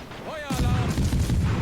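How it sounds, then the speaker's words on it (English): Warship naval guns fire in World of Warships as a single heavy boom with a rumbling tail, preceded by a faint whistling tone. "Fire the guns."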